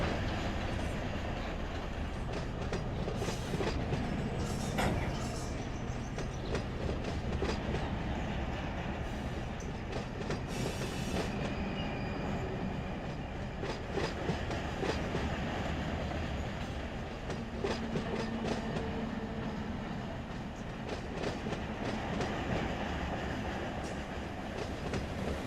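A freight train with its locomotives rolls on in the Run 8 train simulator on a Modesto & Empire Traction local run, a constant dense rumble of wheels and rail clatter, loud and unbroken throughout.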